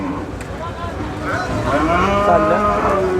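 A bull bellows at a cattle market in Nilphamari, a close, drawn-out low moo rising in pitch over a background of crowd murmur.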